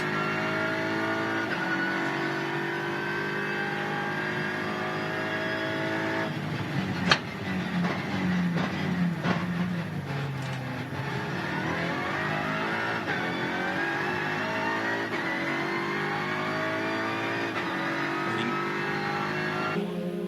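Onboard a TCR touring race car during qualifying at the 2021 TCR Australia round in Tasmania, the engine drones loud and steady at high revs, with a brief gear-change break partway through, then pulls hard again.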